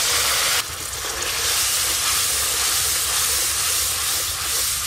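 Water poured onto hot fried masala in a pan sets off a sudden loud, broadband hiss of steam that persists steadily and close for several seconds.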